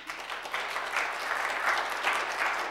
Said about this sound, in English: let's hold the applause and let the speakers do their speaking